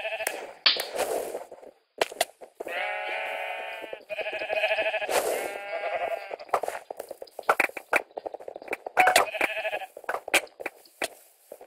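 Sheep in a Minecraft minigame bleat repeatedly in short bursts, several overlapping calls close and loud, with brief gaps between them and no talk over them.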